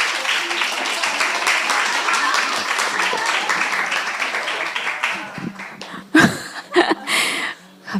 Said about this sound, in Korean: 우리 김문구 주부가 나오실 때 큰 박수로 맞아주시기 바랍니다.